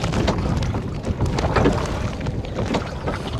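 A boat glides across Nakki Lake while steady wind buffets the microphone. The rumble is continuous and loud, with faint water movement underneath and no voices.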